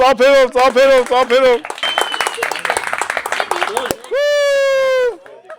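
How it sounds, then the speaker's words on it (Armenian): People clap in a garden gathering, a burst of quick, close handclaps lasting a couple of seconds, framed by loud shouting voices before and a long called-out cry after. "Ծափերով։"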